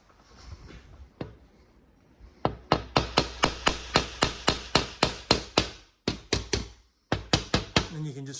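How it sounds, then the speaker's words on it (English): A hammer taps the edge of a glass pane along a scored cut line during demolition: a few soft knocks, then a quick run of about twenty sharp, close, evenly spaced taps in bursts with short pauses between. "just run your hammer around the cut line, and then you can kind of remove the glass"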